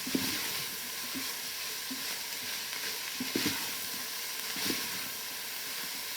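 Onions for a bolognese sauce sizzle steadily in an Instant Pot under a continuous hiss, while a utensil stirs them with several soft scraping knocks against the bottom of the pot.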